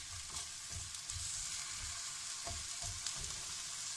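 Sliced onions fry and caramelize in a pan, giving a steady, moderately quiet sizzle with soft periodic stirring knocks and no talk.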